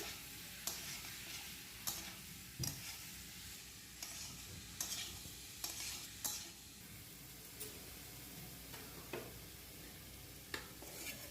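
A spoon stirs boiled green jackfruit with spices in a pan, giving faint scraping strokes and soft clicks at a loose, irregular rhythm over a low sizzle, fairly quiet and close.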